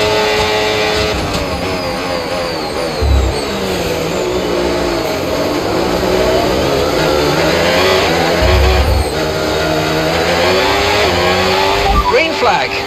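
An F1 race car in F1 25 at Sakhir runs with a loud, steady high-pitched engine whine that rises and falls with gear changes, while a race engineer's radio voice speaks over it.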